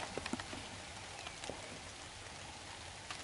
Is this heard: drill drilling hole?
no